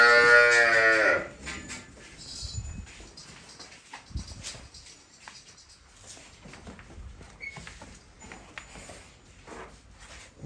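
A loud cow moos once at the start, followed by quieter farmyard shuffling and faint animal sounds, without speech.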